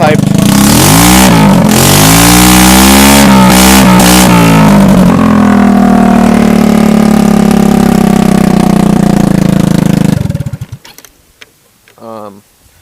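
A straight-piped three-wheeler engine roars loud and close, revving up and down in rough, buzzing surges. It then holds a steady drone before cutting off abruptly near the end.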